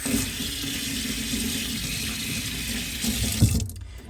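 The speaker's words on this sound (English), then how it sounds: "Now I'm gonna rinse." A paintbrush, metal ferrule included, is rinsed under a running tap used for watercolor painting, giving a steady broadband gush of water for about three and a half seconds before it cuts off.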